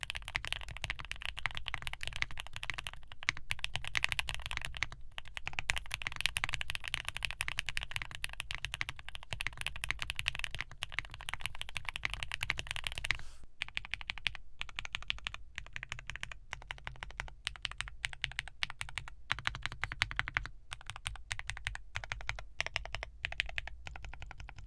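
Rapid, continuous typing on a custom mechanical keyboard with linear switches, a POM plate and PBT keycaps, close and crisp with dense clacking keystrokes alone and no talk.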